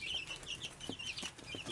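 A mother hen clucks softly among her chicks in a backyard setting, with faint high cheeping from the chicks running throughout and a few low clucks.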